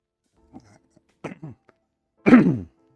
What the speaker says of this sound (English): Sorry, told you I'd be clearing my throat occasionally.